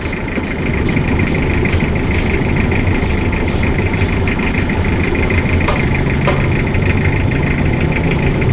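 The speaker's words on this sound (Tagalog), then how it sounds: "Lakas pa ng makina, oh." An older-model Toyota i-Ace engine runs steadily at idle in a repair shop, a loud, continuous rumbling hum with faint ticking and clatter on top and no talk.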